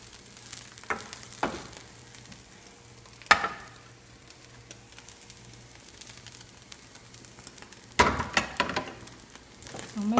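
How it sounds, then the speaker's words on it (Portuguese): Beef farofa with flour frying in a pan, a soft steady sizzle broken by several loud scraping stirs of a utensil, close up, with a brief bit of talking. "Vamos mexer mais um pouco"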